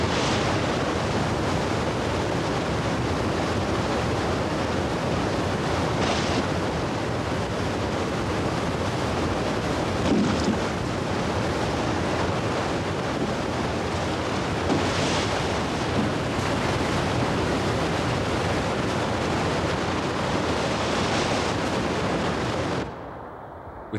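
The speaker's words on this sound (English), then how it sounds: "With every mile that passes, the river becomes faster and more powerful and more dangerous." Rushing white-water rapids of the Dudh Kosi river in Nepal roar as a loud, continuous broadband wash with steady surging turbulence, heard alone without voices.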